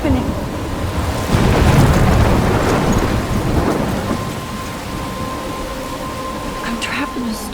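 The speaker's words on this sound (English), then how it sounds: "I'm trapped in a storm?" Thunderstorm in the video game Life Is Strange: loud rumbling thunder over steady heavy rain, swelling early and then settling into a continuous downpour with a faint tonal hum.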